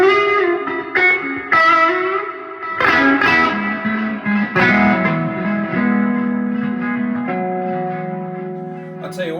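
Electric guitar through an overdrive pedal playing sustained, ringing chords and single notes with a gritty, saturated tone and reverb tail, loud and close, no talking.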